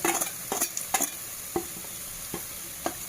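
Spices with turmeric, chili powder, salt, coriander powder, black cardamom powder, garam masala, cumin powder and pepper powder being stirred into frying onions, a continuous sizzle broken by repeated scraping strokes of a spoon against the pan.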